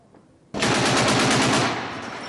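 Sustained automatic gunfire near Donetsk airport erupts suddenly after a quiet moment, a loud, rapid, continuous burst of shots that stays dense and intense for nearly two seconds before easing slightly.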